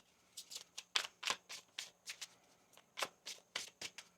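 Tarot deck being shuffled by hand, a close, quiet series of about a dozen crisp riffling bursts in uneven rhythm, with no talking.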